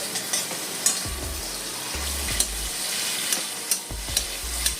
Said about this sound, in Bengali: চিংড়িটা দিয়ে বাটারের মধ্যে আমি একটু নাড়াচাড়া করে নিচ্ছি